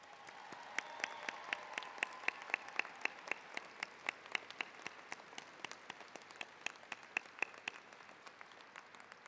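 A commencement crowd applauds steadily, many hands clapping in a dense, even patter that holds for several seconds with no voices.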